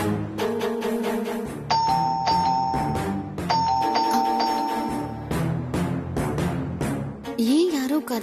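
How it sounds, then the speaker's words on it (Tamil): A doorbell rings twice in a Tamil TV serial scene, each a clear ding-dong chime over steady background music. "யாரோ வந்திருக்காங்க போல, காலிங் பெல் அடிச்சிட்டு இருக்காங்க."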